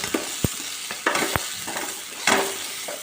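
Mustard seeds, cumin and curry leaves fry as tempering for a tamarind chutney, a close continuous sizzle broken by sharp popping crackles and spoon scrapes, with no speech.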